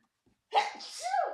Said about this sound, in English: Oh Lord, I'm about to sneeze.